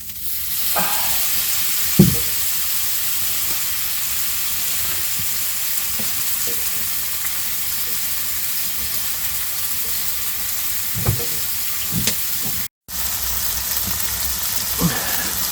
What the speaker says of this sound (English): let's throw it in the skillet and see what happens. Oh yeah, she's hot.